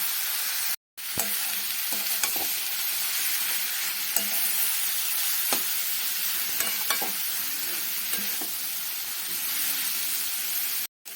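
Egg and cauliflower frying in a pan while being stirred again and again, a loud, dense sizzle with scattered scrapes and clicks of the spatula, broken by a brief cut near the start.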